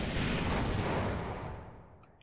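An RPG rocket explosion in Half-Life 2, a loud broad roaring blast that rumbles and then fades away over about two seconds, with no talking.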